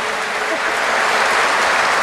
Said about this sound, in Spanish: Vamos a darle un aplauso fuerte a esta gente con la mano arriba